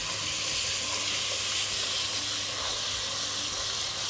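Minced garlic frying in a pot as rice is prepared, a steady close sizzle and hiss running evenly throughout with no talk.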